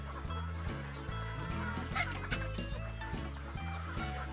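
Chickens at a poultry farm cluck in quick repeating pulses against a steady low mechanical hum, with a bright chirpy layer above, all without speech.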